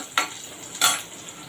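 Garlic and onion going into hot oil for taklyachi bhaji, a quiet steady sizzle broken by two sharp stirring scrapes, close by with no talk.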